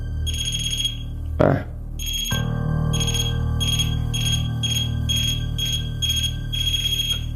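Handheld ghost-detector device giving off a steady, loud electronic beeping in regular repeated pulses while it lights up, inside a supposedly haunted grandmother's house; a brief rustle interrupts early on, followed by a lower droning hum underneath.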